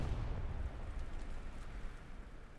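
Artillery shells exploding in the WWII shooter Hell Let Loose on a winter map, a low rumbling boom at the start that decays into a long, muffled distant roll of blasts.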